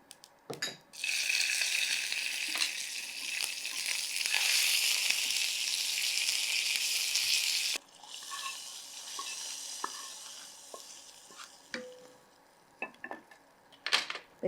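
Asafoetida and curry leaves crackle in hot oil as spices are tempered for tomato rasam, a loud, dense sizzle that drops abruptly to a softer hiss, followed by metal clinks and stirring.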